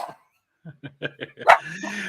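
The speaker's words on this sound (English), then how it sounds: "And my dogs, you must be quiet." Dogs give a short run of small yips and barks, a few quick bursts close by with a brief voice sound at the start.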